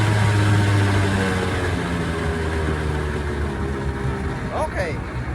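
A 1994 Johnson 60 hp outboard engine on a Shetland 498 boat runs steadily with a continuous low droning rumble, loud and close, and a brief higher squeal near the end.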